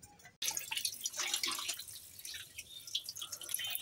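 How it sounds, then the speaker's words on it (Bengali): Sea fish (poya) being rinsed in water for a final wash before cooking, with steady splashing and dripping water close by and no talk. "আমি মাছগুলি আরও আগে ধুয়ে এনেছিলাম, এখন আমার এই লাস্ট ধোয়া"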